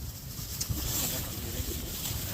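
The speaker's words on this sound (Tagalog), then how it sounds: "Grabe lakas po ng hangin" Strong wind roars steadily and close on a mountain dayhike on Mt. Namogokan, Ilocos Sur, buffeting the microphone with a constant broad rush that barely lets up.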